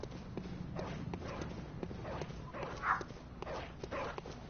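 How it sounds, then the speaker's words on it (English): A dog in the game Bloodborne barks repeatedly at an old lady, a run of short, fairly faint barks over a low background murmur. "This dog here is barking at an old lady who will try to talk to you."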